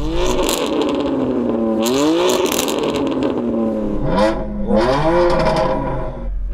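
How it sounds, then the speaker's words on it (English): A BMW M Coupe engine revs hard several times through a loud aftermarket exhaust, pitch climbing and dropping with crackles between blips, close by. "I know you fit an aftermarket exhaust to it, so this should be pretty good."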